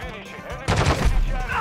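Burst of gunfire from the Modern Warfare 2 video game, a sudden loud crack of rapid shots that rings on briefly after a quiet lead-in.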